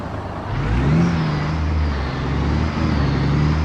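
A truck engine in a Harsh Russia map driving game on a Vladik to Nik-Na-Amur run rumbles low and steady, a loud continuous drone with slight swells and no talk.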